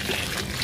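A brief, steady splash of hot water pouring continuously over raw chicken, close and fairly loud.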